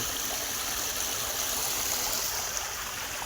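Water flowing steadily along the ground in a farm field, a continuous near, loud gurgling rush with no pauses or voices.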